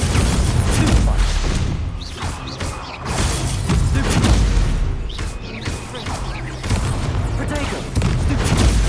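Hogwarts Legacy combat with the Incendio fire spell being cast: dense bursts and booms of magical fire and impacts over a continuous busy game soundscape, loud and close, with a voice calling out spells.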